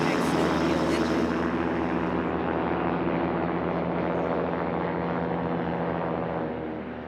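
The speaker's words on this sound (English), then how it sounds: "Lane 2 is also those aircraft we're talking about that are running that Yamaha Apex snowmobile engine." Experimental STOL aircraft fitted with a Yamaha Apex snowmobile engine, drag racing at an air race event, give a loud, steady propeller and engine drone that holds throughout and fades slightly at the end.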